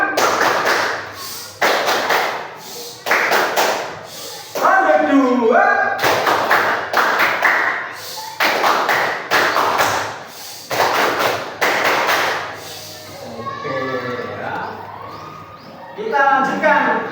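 A classroom of children doing the 'tepuk diam' clapping routine, loud group claps in repeated rhythmic bursts separated by short pauses, with voices chanting between the rounds.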